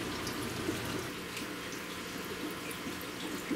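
Water running steadily during a water change on a home freshwater aquarium tank, a soft continuous rushing and splashing wash that stays faint and even throughout, with no talking.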